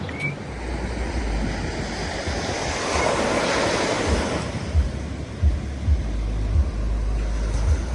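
Ocean waves at Rio Beach in Costa Rica: a steady wash of surf with wind buffeting the microphone and low rumbling gusts, moderately loud and continuous, with no speech.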